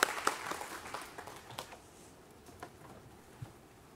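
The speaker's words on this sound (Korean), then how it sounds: "하나님께 영광의 박수를 드리겠습니다." Applause from a church congregation during a Wednesday worship service, beginning strong with scattered claps and fading quickly to sparse, faint clapping over a quiet room.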